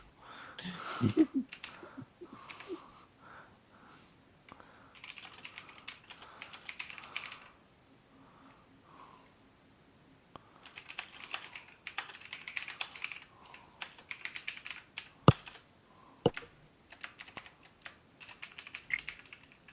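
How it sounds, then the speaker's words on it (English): Computer keyboard typing during an online tabletop RPG session on Roll20, with bursts of rapid keystrokes separated by brief pauses, close and fairly loud, mostly alone with little talk. "That's a lot of typing."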